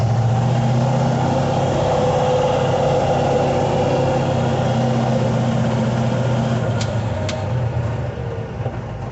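A 1963 Chevy Nova with a T5 manual transmission and 3.08 rear gears drones along at speed, a steady loud low engine and road rumble throughout with no talk.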